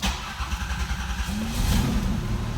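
A car's 3.8 engine cranks and catches, then settles into a steady, throaty idle with a slight rise in revs, close by.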